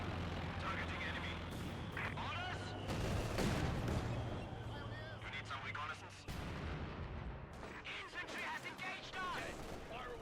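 Heavy machine-gun fire from a .50 cal in the Company of Heroes 2 tank battle on Fields of Winnek, dense bursts mixed with artillery booms and battlefield rumble, with a voice talking over the action throughout.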